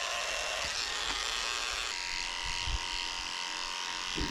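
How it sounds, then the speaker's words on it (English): Electric dog clippers fitted with a 40 blade shave the paw pads of a Shih Tzu during grooming, giving a loud continuous close-up buzz with a few brief thumps and no speech. "I'm shaving out the pads of her feet with a 40 blade"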